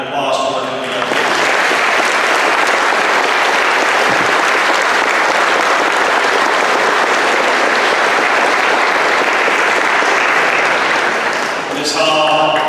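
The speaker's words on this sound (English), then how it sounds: "I want us to give one more round of applause for our coming up." Sustained audience applause at an alumni induction ceremony, loud and dense clapping lasting many seconds, with a speaker's voice briefly heard at the start and end.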